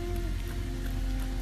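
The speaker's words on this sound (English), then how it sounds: "It's 44 degrees and it's nice and rainy outside." Steady rain falls outside on a 44-degree day, a continuous dense hiss of drops with a low rumble beneath, no talking.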